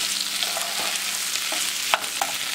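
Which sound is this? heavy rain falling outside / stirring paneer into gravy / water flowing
stirring paneer into gravy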